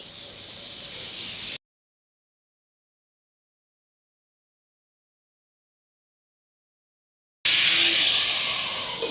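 Bitter gourd sizzles as it is added to a pan for a quick green bitter gourd fry: a loud, broad hiss that cuts off abruptly, falls silent for several seconds, then returns just as strongly.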